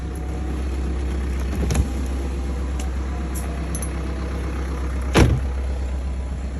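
A BMW F11 engine idles steadily just after starting, a constant low rumble with a couple of brief sharp knocks or clunks over it.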